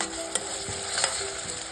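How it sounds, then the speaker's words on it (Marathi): Green paste sizzling in a pan with reddish-browned onions for a Nagpuri Saoji dal kanda, steady frying hiss broken by a few sharp scrapes of a spoon stirring, close and fairly loud. "यात आपल्याला हिरवी पेस्ट घालायची आहे।"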